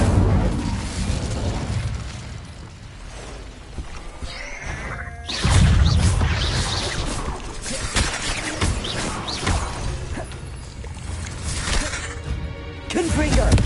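Fiery bursts of the Incendio spell in the video game Hogwarts Legacy, loud crackling whooshes and booms within busy combat noise, with a voice calling out spell names.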